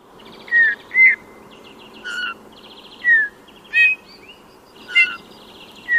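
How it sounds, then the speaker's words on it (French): A Eurasian bullfinch sings clear, pure piping notes and double notes, spaced out in short separate phrases, close and distinct against a quiet background with no talking. "Il n'y a qu'à écouter le bouvreuil pivoine qui chante en posant ses notes ou double notes."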